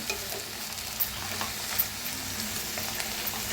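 Fenugreek leaves fry in a kadai with a continuous close sizzle, punctuated by regular scraping and stirring knocks of a spoon against the pan.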